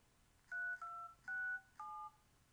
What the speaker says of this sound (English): See, hopefully I dialed the right number.